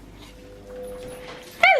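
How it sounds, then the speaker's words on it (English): A dog just back from the groomers yips and whimpers, a soft thin whine running beneath faint kitchen noise before one sharp, loud bark-like yelp at the end. "that's the dog's just back from the groomers"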